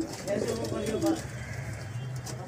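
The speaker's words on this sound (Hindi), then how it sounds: "तो आसिफ भाई कबूतरी अंडा दे रही है," Soft, low homing pigeon cooing close by, a couple of rolling coos over quiet background murmur.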